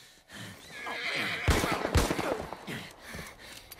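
A horse in The Last of Us Part I gives a loud, shrill whinny, with snorts and hoof movement around it in a game scene.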